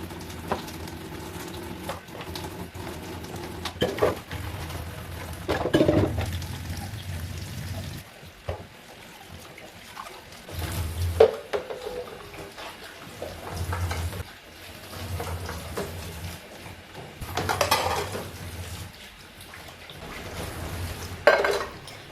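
Dishes being washed in a home kitchen sink: intermittent clinks of plates, pots and cutlery with splashes and pours of running water, close and moderately loud, no voices.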